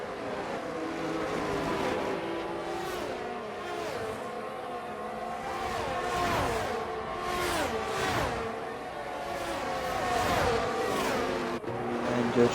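A race car engine in a racing video game entering the pit at Abu Dhabi, its steady high whine rising and falling through gear changes as other cars roar past close by, with no voices.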